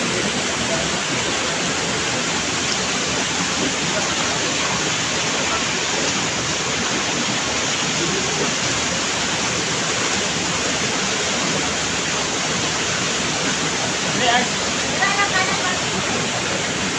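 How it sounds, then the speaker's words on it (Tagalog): Strong rushing water from an underground river inside a cave near Iligan fills the space with a loud, constant roar. A few faint voices surface near the end. "grabe ka kusog ang agos sa tubig yun"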